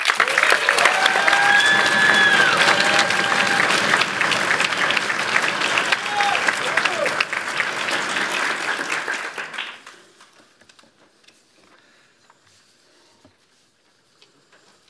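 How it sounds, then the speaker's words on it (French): A crowd at a parliamentary debate championship final claps loudly and steadily, with whoops and voices mixed in, then the applause dies away abruptly into near silence. "sous vos applaudissements tout aussi enthousiastes, Madame la chef de l'opposition, Noa Vaché."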